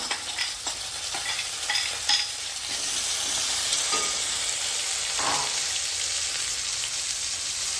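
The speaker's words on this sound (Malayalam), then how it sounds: "അതിനകത്തേക്ക് നമുക്ക് അരിഞ്ഞ് വെച്ച സവാള ഇട്ട് കൊടുക്കാം." Chopped onion tipped into hot oil with garlic, ginger and green chili, a few stirring knocks at first, then a strong steady frying hiss that swells and holds, close up.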